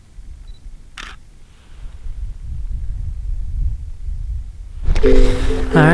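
A camera shutter clicks once, crisp and close, while photographing mountain goats on Mount Rainier, followed by steady low wind rumble and then a quick burst of rapid shutter clicks near the end.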